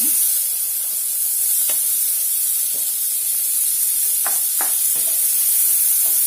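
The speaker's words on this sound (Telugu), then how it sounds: "సన్నగా తరిగిన ఉల్లిపాయలు వేస్తున్నాను" Finely chopped onions and green chillies fry in oil with a steady, bright sizzling hiss, loud and close, broken by a few faint clicks of stirring.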